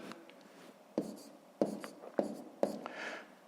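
Pen writing numbers by hand on paper while working a multiplication problem, giving four short scratchy strokes spaced about half a second apart over a quiet background.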